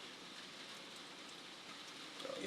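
Steady rain falls during Typhoon Christine, a continuous broadband hiss of drops on surfaces, fairly close and even throughout with no voices.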